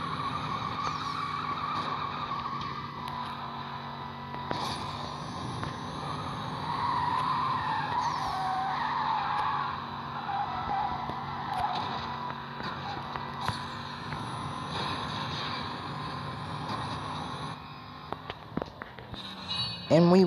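In the Need for Speed No Limits mobile racing game, a car drifts with a sustained loud tire squeal over a revving engine for most of the stretch, ending in scattered game sound effects.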